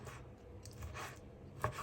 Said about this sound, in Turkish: Küp küp doğruyoruz.